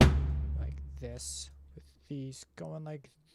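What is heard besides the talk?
None of the usual background noises is heard.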